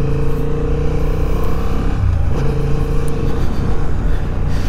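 A 2023 Honda CB750 Hornet motorcycle pulls away with a steady, loud, close engine drone that rises gently as it gets under way.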